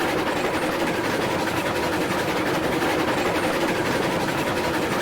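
A train runs along the track in the Railroads Online game, a steady, loud rumble of wheels and engine with faint rhythmic clatter continuing unbroken throughout, with no talking.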